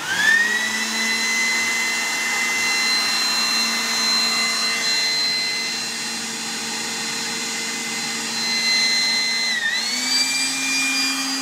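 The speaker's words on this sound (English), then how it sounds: "We're gonna hear the blower kick on low for the first 10 seconds and then high." A pilot burner control box blower runs steadily at low speed with a constant mechanical hum and whine, then near the end shifts up audibly to its high setting, loud and close with no talking.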